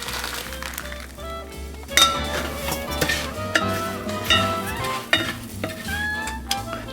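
Rice stir-fried with melted butter and sauce in a pan sizzles steadily while a utensil scrapes and clinks against the metal in irregular strokes, close and fairly loud, with no talking.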